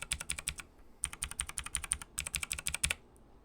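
Rapid bursts of typing on an old mechanical keyboard fitted with Warframe HyperX keycaps, sharp clicky keystrokes in quick runs with a brief pause near the start, close and clear with no voices.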